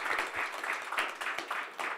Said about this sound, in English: If we could please clap on behalf of our audience, panelists.